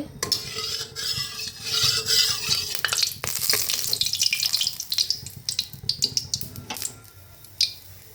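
Hot oil hisses in a pan close by, a bright steady sizzle with clinks of a utensil and spoon scrapes scattered through it and a louder clatter near the end.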